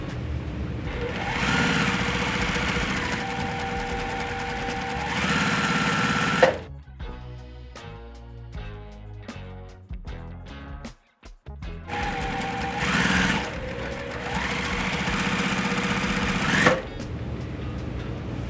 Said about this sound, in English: Now it's time to sew those rows together.